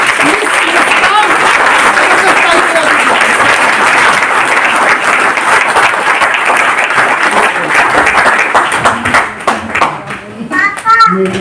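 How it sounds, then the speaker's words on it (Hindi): Loud, dense applause from a large audience welcoming a guest on stage at an RCM celebration event in Ludhiana, sustained for about ten seconds before thinning out as a voice comes in. "तो चलिए आप लोग के जोरदार तालियों के साथ please welcome on the stage"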